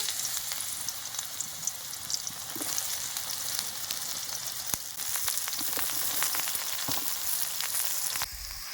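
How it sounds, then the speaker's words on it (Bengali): Ridge gourd frying unsalted in hot mustard oil in a kadai gives a continuous nearby sizzle scattered with sharp pops and crackles, with no one speaking. "তেলটা হয়ে গেছে ঝিঙেটা আমি ভেজে নেব"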